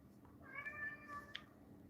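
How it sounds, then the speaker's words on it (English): A house cat gives one drawn-out, fairly quiet meow indoors, followed by a faint short chirp, against low room noise. "My cat's meowing at me."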